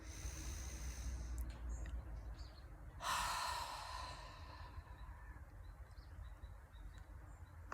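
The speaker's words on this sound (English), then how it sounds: "Inhale." A person takes a deep breath in, a soft, airy inhale that swells midway and then fades into quiet, close and alone with no talk.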